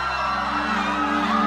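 Sustained, dense screaming or crowd yelling rings out loudly and continuously over a sad song in an emotional scene, with no pauses.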